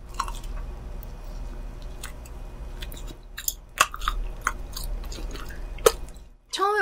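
Close-up eating of a fried chicken cheese ball, with soft squishy chewing and biting, small crisp clicks and wet mouth sounds at an uneven rhythm.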